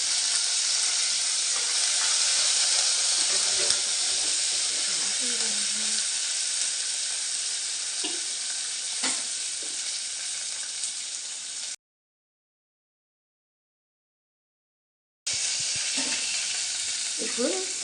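Ginger, green chillies and curry leaves fry in oil for a breakfast wheat rava upma, a strong continuous hiss with occasional stirring knocks, a gap of silence, then the sizzling resumes.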